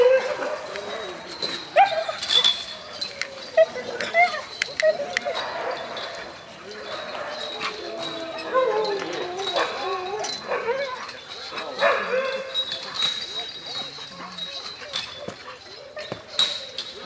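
Huskies at a sled dog centre near Saint Petersburg bark, yip and whimper at close to medium range while people talk over the dogs.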